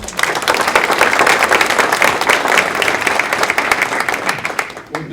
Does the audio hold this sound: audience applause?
yes